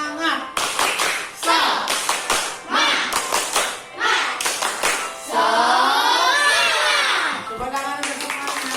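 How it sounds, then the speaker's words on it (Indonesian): A group of school children claps in quick rhythmic patterns, chanting along between bursts of claps. "Tepuk semangat."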